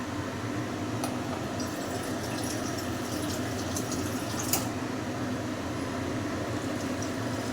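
Water is poured into a simmering fish curry made with taro, giving a steady, close filling and bubbling rush with a few brief clinks and splashes over the continuous hiss.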